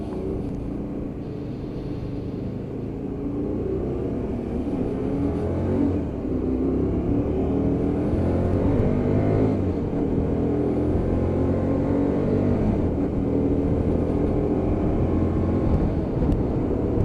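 Hyosung GT125R 125cc motorcycle ridden through roundabouts in traffic, its engine droning steadily with shifting harmonic tones as the rider feeds the throttle, with continuous wind and road rumble.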